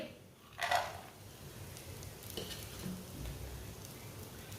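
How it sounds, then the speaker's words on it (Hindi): Raisins roasting in a hot pan give a soft, steady sizzle with a brief louder scrape of stirring near the start, close and fairly quiet. "सौंगी को भी 1 मिनट के लिए पका लेंगे। थोड़ा सा ना रोस्ट कर लेंगे।"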